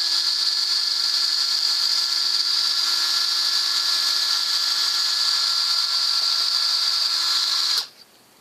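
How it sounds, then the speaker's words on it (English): Power drill drilling out a part, a loud steady high-pitched motor whine held for several seconds before stopping abruptly near the end. "I'm going to come in and drill out"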